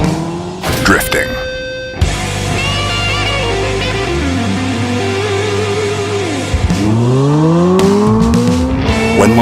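A Hyundai IONIQ 5 N electric car drifting, its tires squealing loudly in long sweeping screeches with rising and falling electric motor whine, close and dominant throughout.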